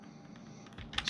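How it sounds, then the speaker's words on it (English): Keystrokes on a computer keyboard entering a Linux terminal command, faint tapping that grows into a louder burst of clacks near the end, with no voice. "make sure to type this correctly and hit enter"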